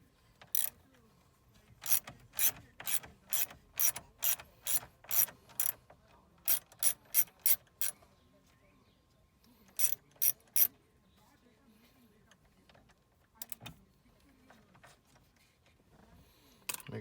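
A T27 Torx driver on Porsche car radio trim screws, giving crisp rhythmic ratcheting clicks in fast regular runs, pausing, then resuming in shorter bursts, close and clear over a quiet room.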